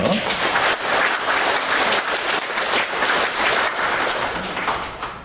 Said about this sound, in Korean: 우리 교육공부를 위해서 박수 한번 쳐주세요.